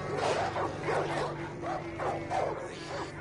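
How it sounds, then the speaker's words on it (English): A dog in the video game Far Cry 5 barks in a quick run of about six sharp yaps, close and steady, without speech. "Oh, great. Dog."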